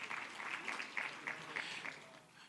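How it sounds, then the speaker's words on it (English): Conference audience applauds in a hall, faint scattered clapping with several sharper bursts that fade out toward the end. "You're certainly allowed to applaud for military service."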